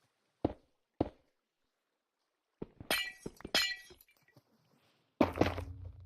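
Glass blocks break in Minecraft: two sharp isolated clinks, then a cluster of shattering crashes, and a final louder shatter after a short silence.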